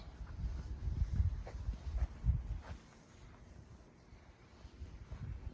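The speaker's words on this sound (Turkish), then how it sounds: "Ama rüzgar var değil mi" Steady low wind rumble buffeting the microphone at night in Cappadocia, gusting in a few stronger bursts before easing to a softer, quieter stretch.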